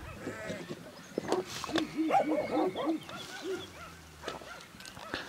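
A young female dog of about six months barks in a quick run of sharp yelps and bow-wows, fairly close, with some whimpering and background noise from a farm setting with sheep.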